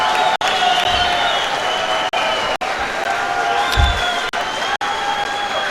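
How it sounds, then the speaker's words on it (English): A judo event crowd applauds and cheers for a gold medal win, a broad steady roar of clapping and voices from a large arena, with brief dropouts and a commentator speaking over it. "Happy crowd."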